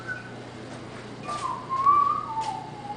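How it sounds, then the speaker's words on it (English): A person whistles a short wavering tune down a hallway at a distance, faint over a low steady hum. "Let's see who's whistling down the hall."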